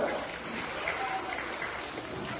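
Children and parents at a class 3 maths olympiad clap together for a student's score, a short, dense patter of applause heard up close.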